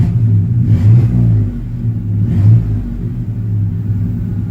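A Chevy C1500 Sport pickup's engine idles nearby in a steady low rumble, with two slight rises in revs early on before it settles back to an even idle.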